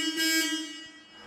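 Horn of a 1969 Plymouth Road Runner sounding one loud, steady honk up close, ringing briefly and then fading, with no other sounds around it.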